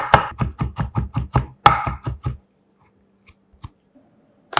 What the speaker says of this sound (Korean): 알싸한 통마늘 4개도 살짝 굵게 다져서 담고